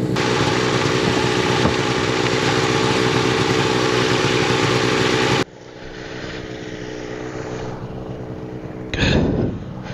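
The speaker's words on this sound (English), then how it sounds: "I've got the wing set up, the engine's running." A Power2Fly Falcon tandem trike's engine runs close by with a loud, steady propeller drone. It drops abruptly to a quieter idle partway through, then gives a brief revving swell near the end.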